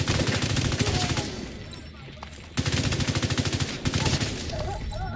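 Automatic gunfire in The Division 2 shooter: dense, rapid bursts of shots fill most of the stretch with one short lull before the firing resumes, loud and close.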